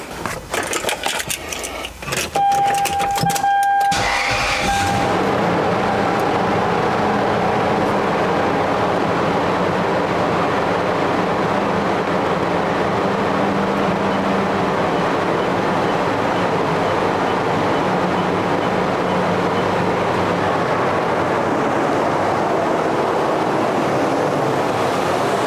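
A truck engine starts with a brief clatter and then settles into a steady, loud idle running on alone, a continuous broadband hum with no talking.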